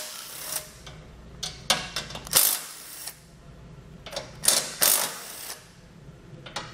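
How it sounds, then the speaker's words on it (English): Ratchet wrench turning a 13mm socket on bumper beam bolts of a 2020 Buick Envision, quick clicking bursts in close, uneven clusters with short pauses between them, loud and without talk. "We'll use a 13mm socket to remove these bolts."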